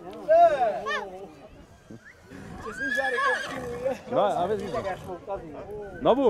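Horses whinny repeatedly at a horse fair in Tășnad, Satu Mare, loud nearby neighs rising and falling among people talking.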